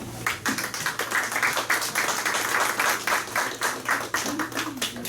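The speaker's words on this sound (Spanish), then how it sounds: "Un aplauso, por favor" Audience applause at a lecture on the powers of a standing commission, a steady patter of many hands clapping for about five seconds, with faint low hum beneath and no talk over it.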